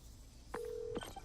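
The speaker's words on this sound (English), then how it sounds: "Phone call to MJ." A phone call being placed in Marvel's Spider-Man on PS4: a faint click, then a single sustained tone lasting about half a second, set against a low background hum.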